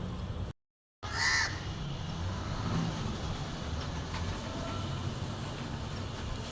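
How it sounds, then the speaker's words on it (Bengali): A crow perched near a home garden caws repeatedly, its calls clear over a steady background hum and a brief dropout near the start. "আর এই কাকটা বসে বসে ডাকছে।"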